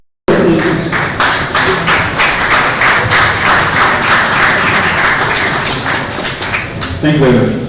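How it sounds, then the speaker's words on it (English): A conference audience gives a round of applause for a CEO's presentation, a loud, dense burst of clapping with scattered cheers that carries on steadily. "We have a round of applause for Mr. Shane."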